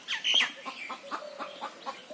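A chicken clucks close by in a quick string of short, squawky calls, loudest at the start and then settling into softer, evenly spaced clucks.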